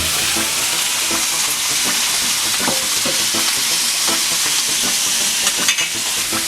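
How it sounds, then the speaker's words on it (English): Steak searing in a hot pan gives a loud, steady, close hiss of sizzling fat that stays even throughout, with faint crackles and pops. "Let that sear for 2 minutes."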